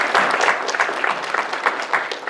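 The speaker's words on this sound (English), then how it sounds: "Let's give them a round of applause now." Applause rises from the audience at an early career panel event, with distinct claps landing in an uneven rhythm, fairly close and loud, and no speech over them.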